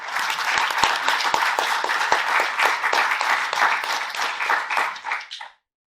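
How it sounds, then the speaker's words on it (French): Loud, sustained applause from an audience at a lecture event, dense clapping close by that carries on evenly and then cuts off abruptly near the end. "Nous l'applaudissons très fort."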